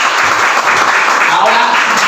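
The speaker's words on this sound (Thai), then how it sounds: "ปรบมือขอบคุณท่านด้วยนะครับ" An audience at a Thai success-themed talk applauds to thank a guest, a loud dense wash of clapping heard alongside a speaking voice.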